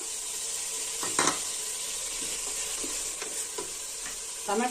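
Chopped tomato with turmeric sizzles and fries in a pan while being stirred, with a steady hiss broken by several scraping, clinking stirs, close and fairly quiet.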